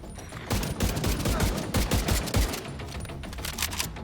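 Rapid volleys of gunfire from the Merciless exotic fusion rifle in the Destiny video game, dense and continuous at close range, bursts following one another with little pause.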